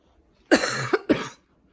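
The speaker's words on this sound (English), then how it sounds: "has kind of a cough that I noticed in the last day" Two short, close coughs from a child with COVID, in quick succession, the first longer and rougher, the second brief, surrounded by quiet.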